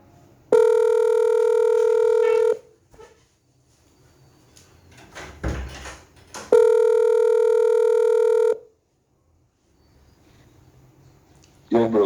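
A phone dials out to add a caller to a podcast call, giving two long, loud steady tones of about two seconds each, separated by brief clatter and handling noise, with no talk.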